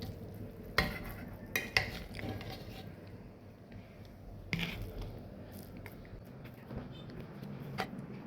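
Khichuri being stirred and fried in a pan at home, with a spoon scraping the metal in a few sharp knocks over a soft, steady sizzle, close by.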